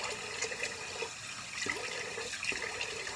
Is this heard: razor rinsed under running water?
yes